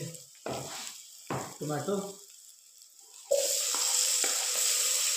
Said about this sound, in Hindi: इससे मैं इसको तकरीबन 30 से 40 सेकेंड में भून लूँगा